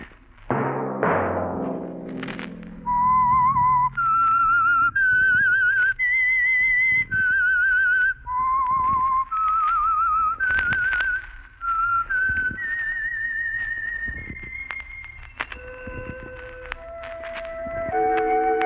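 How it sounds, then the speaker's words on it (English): A lone whistled melody, the theme of the radio program The Whistler, plays as a series of clear sustained notes rising and falling in phrases, heard alone and fairly loud with small knocks between notes. "Let that whistle be your signal for the Signal Oil program, The Whistler."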